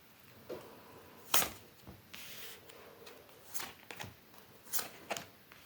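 A tarot card deck is shuffled close by in a quiet room, with several soft riffling bursts and rubbing swishes spread irregularly over a few seconds.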